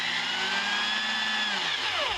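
A cordless drill with a quarter-inch head drives tapping screws into a shoe, its motor whining steadily at close range and then winding down in pitch as the trigger releases, with no speech.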